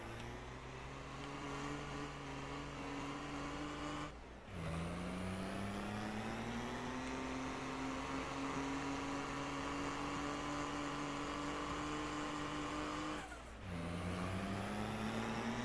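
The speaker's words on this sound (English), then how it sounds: "Come on, pickup truck, you got this." Pickup truck in Farming Simulator 22 driving alone with a steady, loud engine drone whose pitch climbs slowly, broken by two brief gear-change dips before it rises again.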